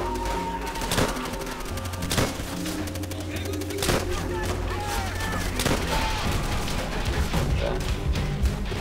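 Pistol gunfire in the World War II shooter Call of Duty: World at War, sharp shots cracking at irregular intervals amid dense game noise, battle ambience and talk.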